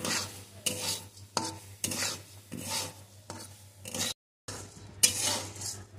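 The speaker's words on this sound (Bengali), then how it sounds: "আঁচটাকে কমিয়ে রেখে এইভাবে সমানে নাড়তে থাকবো" Rice being dry-roasted in a pan over low heat without oil or sand, stirred with a utensil in repeated scraping strokes about every half second, the grains rustling and rasping against the metal, with a brief pause near the end.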